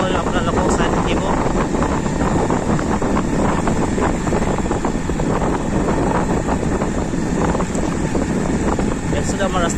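Wind roars steadily across the microphone of a motorbike moving along a morning road, a constant loud rushing noise with a voice talking over it.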